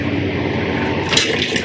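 Warm water pours steadily into the hopper of an ice cream machine during cleaning, a continuous splashing rush that brightens and grows slightly louder near the end.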